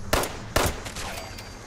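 Gunfire in Fallout 76: two sharp, loud shots about half a second apart open the clip, followed by a few fainter reports in the background.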